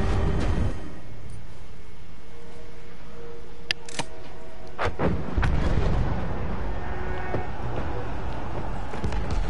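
Explosions and heavy gunfire from the Battlefield 1 campaign, a dense war-game battle din with several sharp loud blasts standing out over a constant roaring background.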